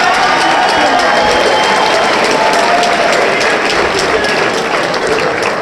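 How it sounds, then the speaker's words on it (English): Crowd at a combat sports fight night in a Tampa, Florida pavilion gives a sustained round of applause mixed with cheering, loud and continuous, with an announcer's voice faintly under the noise. "a nice round of applause for both fighters"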